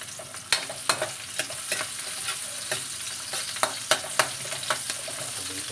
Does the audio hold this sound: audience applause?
no